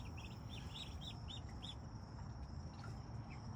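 Muscovy ducklings giving a quick series of about six high, thin peeps, faint and close over a low steady background hum, then falling quiet.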